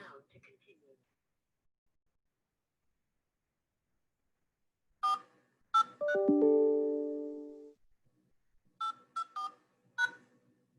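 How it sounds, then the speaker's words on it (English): Telephone keypad tones while dialing into a meeting by phone, a few short beeps, one longer sustained tone, then another quick run of beeps against near silence. "I'm going to try and call in through my phone."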